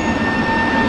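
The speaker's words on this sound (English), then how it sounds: "That's a tram, that is." A Prague tram passes close by in the street, giving a loud, steady rumble with a faint high tonal whine on top.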